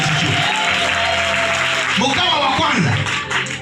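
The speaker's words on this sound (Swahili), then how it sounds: "Mpe Yesu makofi" A congregation applauds at a church prayer gathering, with clapping sustained for a few seconds under loud speech and shouting from the crowd.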